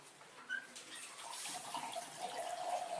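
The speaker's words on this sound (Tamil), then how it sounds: "3 டம்ளர் தண்ணி விடணும்." Water poured from a tumbler onto powdered jaggery in a kadai, a steady close splashing and trickling that runs for about three seconds with no talk.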